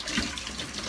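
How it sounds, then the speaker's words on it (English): Water running from a tap as shaving soap is rinsed off a face, a steady close splashing wash that fills the moment with no talk. "I'm gonna rinse off"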